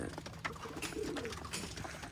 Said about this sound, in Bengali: সকালে কবুতরকে খেতে দিলাম